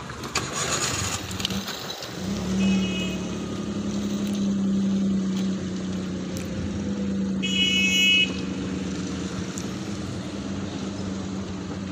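A car engine cranks and catches during a driving lesson on a hill, then settles into a steady, fairly loud idle hum that runs throughout, with a couple of brief high beeps partway through.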